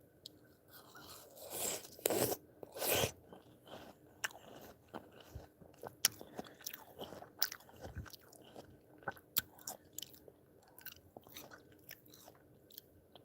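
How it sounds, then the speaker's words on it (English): Yellow watermelon is bitten and chewed close up in a quiet room, with a few crisp, juicy crunches early on and then softer wet chewing and smacking. "Yellow watermelon."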